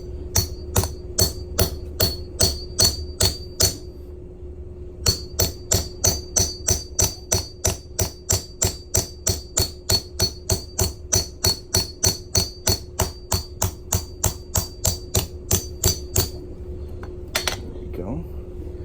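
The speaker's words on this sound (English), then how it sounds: "put the punch on top, and hammer it until it pushes through the coin" A punch is hammered through a Texas state quarter, making a long series of sharp, ringing metallic strikes in a steady rhythm, with a brief pause early on and a few scattered final blows, close and loud.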